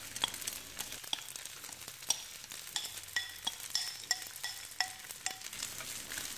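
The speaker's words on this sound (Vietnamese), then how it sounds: "mình đảo đều mình chiên" Rice with egg sizzles steadily in a hot pan while a utensil scrapes and tosses it, with sharp clinks at irregular intervals, close up and without talk.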